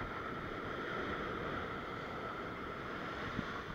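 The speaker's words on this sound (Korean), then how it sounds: "파도가 또 쭉 안으로 쓸고 들어가는데" Swelling ocean waves washing in over a rocky shoreline while sea fishing, heard as a continuous, even rushing roar of water with no breaks.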